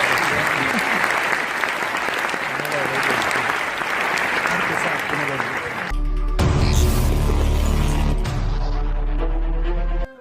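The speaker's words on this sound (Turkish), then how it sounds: "sizlerden kuvvetli bir alkış rica ediyorum" Strong, sustained applause from an audience honouring performing artists after a stage play, dense and steady, then swelling louder as a loud musical backing joins in near the end.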